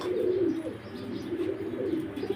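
Pigeons cooing steadily in low, throaty rolls at a pigeon farm in Mirpur 11, several birds close by with overlapping calls and no talking.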